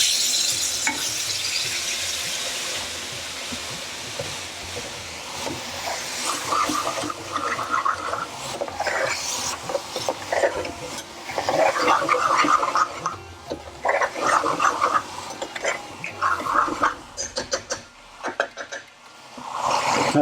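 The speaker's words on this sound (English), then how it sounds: "now I'm going to add in the fenugreek and 1 ladle of base gravy" Fenugreek and a ladle of base gravy go into frying spices for a BIR-style chicken bhuna, hissing loudly at first, then settling into a bubbling sizzle with repeated scraping stirs in the pan.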